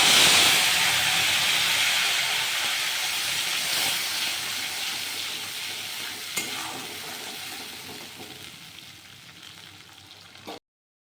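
Loud hissing sizzle as tomato paste hits hot oil with cumin seeds, bursting strongly at first, then gradually settling into a softer, steady frying hiss.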